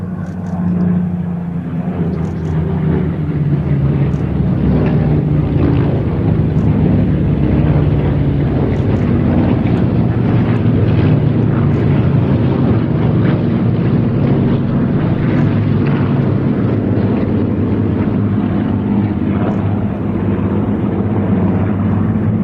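Nine aircraft flying a formation tail chase at an air show, a steady, loud, broadband engine roar that holds throughout with wind buffeting the microphone.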